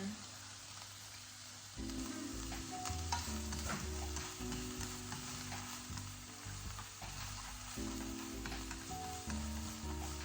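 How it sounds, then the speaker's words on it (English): Onion and colourful peppers frying together in a pan, a faint continuous sizzle with occasional stirring while background music plays underneath. "I have some onion and some colorful peppers that I'll just add to a pan all together."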